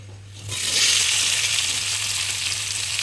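Chopped onions hit hot oil in a pan and burst into a loud, close sizzle after a brief quieter moment, then keep frying steadily with a low hum beneath.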